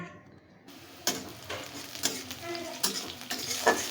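Onions fry in a pan with a soft, steady sizzle, broken by several sharp scrapes of a spoon stirring them, close and fairly quiet with no talk.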